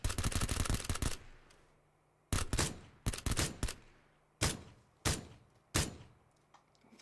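Gunfire in a first-person shooter video game: a rapid automatic burst opens, then a second clustered volley and several separate single shots spaced about a second apart, loud and sharp with short decaying tails.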